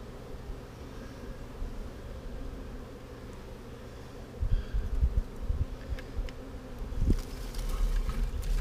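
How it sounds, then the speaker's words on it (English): Honeybees inside an opened beehive, with a steady low buzzing that swells and grows busier partway through, accompanied by light rustling and handling noises nearby. "opening up my beehive, see what's going on in it."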